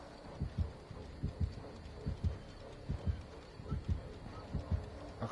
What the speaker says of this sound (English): I can constantly hear his fucking heartbeat.